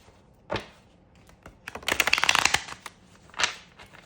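Tarot cards being shuffled by hand: a soft riffle at the start, a longer dense burst of rapid flicking card snaps in the middle, then another short riffle, close and fairly quiet with no talking.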